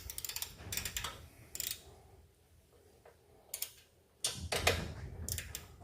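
A socket wrench ratchets in short bursts of rapid clicks with quiet pauses between them while an aftermarket Bassani exhaust is fitted to a Harley-Davidson Lowrider ST, the clicking close and fairly faint.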